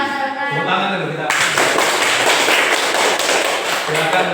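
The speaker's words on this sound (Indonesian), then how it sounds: "Tepuk tangan dulu kita." Classroom students clap their hands together in a dense, lively burst that starts after a short spoken line and keeps going steadily, loud and close.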